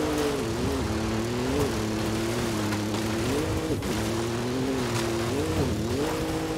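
A racing Bronco in Forza Horizon 5 charges up the side of a volcano over bumpy terrain, its engine droning steadily and loudly with repeated pitch dips and rises as it shifts and revs.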